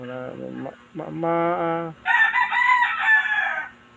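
A rooster crows loudly nearby in a long, multi-part call, a short break, then a harsh drawn-out final note; no other sounds around it.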